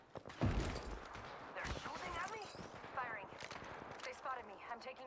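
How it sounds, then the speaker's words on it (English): Enemy gunfire in Apex Legends crackles in quick, moderately distant bursts, mixed with other game sounds and voice-like chatter. "They're shooting at me? Firing. They spotted me. I'm taking shots."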